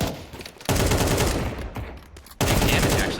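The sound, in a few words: AK rifle gunfire in Counter-Strike video game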